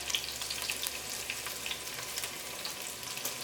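Crushed ginger, green chili and onion frying in hot coconut oil, a steady bright crackling sizzle with scattered sharp pops and light stirring, close and continuous throughout.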